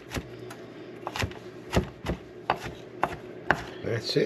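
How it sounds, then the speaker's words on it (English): Knife chopping garlic on a cutting board, a series of sharp, close, irregular knocks spaced about half a second apart, with a brief spoken remark near the end. "Cut up our garlic here"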